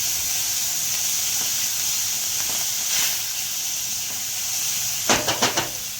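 Ginger, garlic and green chili paste goes into hot oil with asafoetida for dal tadka, producing a steady close hiss and sizzle, with a few quick taps of a spoon near the end.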